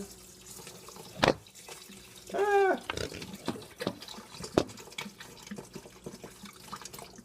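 Water runs from a kitchen tap into a pot holding just under two cups of rice, a short steady splash and gurgle between a few sharp clinks and knocks of the pot.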